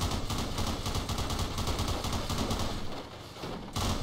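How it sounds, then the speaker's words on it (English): Rapid, dense burst-mode gunfire from a weapon modified to fire extra fast in Crysis, a steady loud rattle of shots with a brief dip near the end before firing resumes. "I've like edited it so it shoots really fast on the burst mode"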